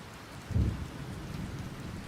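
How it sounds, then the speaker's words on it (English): Steady rain falls on surfaces outdoors during a long walk past a shanty town, with a low rumble of thunder swelling briefly near the start and then fading back under the rain. "I hear a little bit of thunder now."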